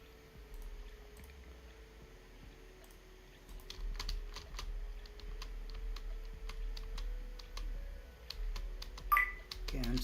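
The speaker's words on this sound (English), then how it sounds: "let's type print" Keys clack on a computer keyboard in a quiet room, with a sparse scatter of light taps that quickens into a busier run of keystrokes and ends in a sharper stroke.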